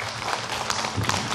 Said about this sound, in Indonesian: Boleh tepuk tangannya jamaah.